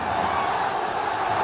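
A cricket crowd roars after a boundary, a dense, steady wash of distant cheering that stays level through the short moment with no break.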